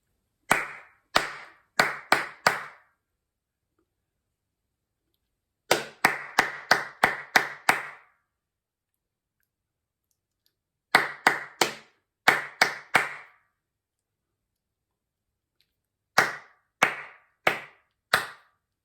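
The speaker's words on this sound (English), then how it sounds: "we should just hear clapping from me and clapping from you" Rhythmic hand clapping in four bursts of about four to six sharp claps each, separated by silent pauses, clear and close with no talking.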